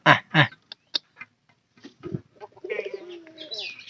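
Native village pigeons cooing close by, several soft throaty coos and murmurs in irregular bursts, with a few sharp clicks between calls.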